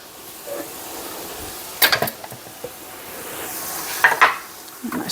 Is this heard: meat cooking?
yes